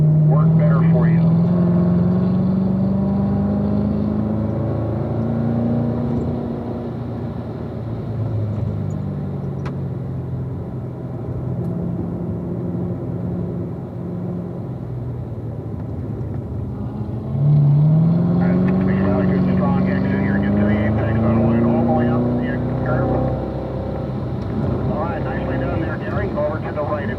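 Cars run through corners on a race track, engine notes climbing and sweeping in pitch as they accelerate, fading as they pass and rising again as another car comes through; speech is faint underneath.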